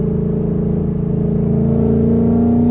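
Loud, steady car engine drone with a low harmonic hum, building slightly as it accelerates, no voices.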